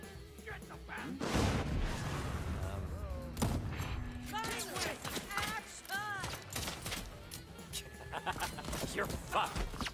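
Gunfire in the video game Deathloop: bursts of shots and impacts crackle over game music and effects, with a player's voice talking over the action.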